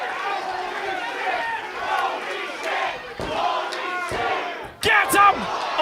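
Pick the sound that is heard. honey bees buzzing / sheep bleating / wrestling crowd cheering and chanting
wrestling crowd cheering and chanting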